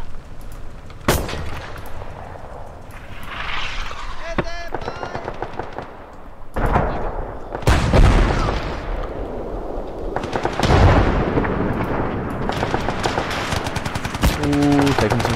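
Gunfire from the video game Gates of Hell: Finland: sharp shots and short machine-gun bursts break out repeatedly, some close and loud, others more distant, with heavier booms now and then and voices talking in between.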